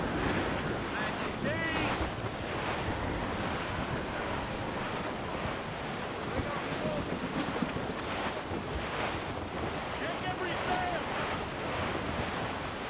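Stormy ocean waves and gusting wind at sea in the Assassin's Creed Rogue video game, a continuous loud roar of surf and wind with crashing swells, faint voices mixed underneath.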